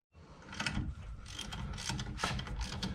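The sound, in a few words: ratchet turning a socket on a truck brake bolt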